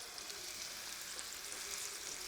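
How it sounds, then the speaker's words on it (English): Steady, dense sizzling of salmon frying in a hot pan, a continuous crackle with no talking. "Remember, we want a big sizzle."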